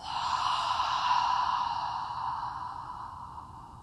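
A deep, slow breath out through the mouth during a yoga class, one long airy exhale that swells and then fades steadily over a few seconds, close and alone.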